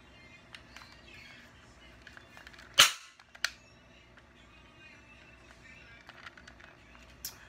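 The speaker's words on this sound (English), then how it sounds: "It don't shoot nothing. It just, you know, makes a lot of noise." A cap gun fires a sharp, loud crack once, followed moments later by a second, smaller pop, over quiet background ambience.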